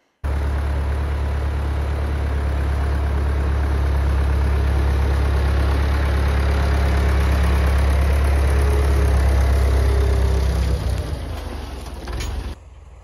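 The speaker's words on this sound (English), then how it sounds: "getting to play with the tractor" A tractor engine idles loud and close with a steady low rumble while trees are being cleared, holding an even drone for about twelve seconds before tapering off near the end.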